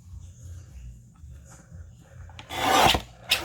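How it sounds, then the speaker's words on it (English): A paper trimmer slicing a torn edge off a book page: faint rustling handling, then a short, loud rasping cut, and a brief second scrape at the end. "So we'll get our trimmer and just cut that off."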